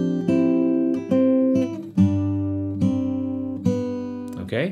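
An acoustic guitar is picked fingerstyle in a slow, even pattern of ringing notes and chords from a simple arrangement of the hymn Be Thou My Vision, played alone and close up.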